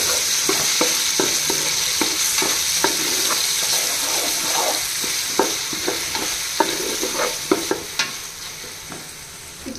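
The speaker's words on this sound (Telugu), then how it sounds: "ఇప్పుడు అల్లం వెల్లుల్లి పేస్ట్ పచ్చివాసన పోయేంత వరకు వేగనివ్వాలండి." Ginger garlic paste frying in a pan while being stirred, a continuous sizzle broken by repeated scraping strokes of a spoon, close and with no talk.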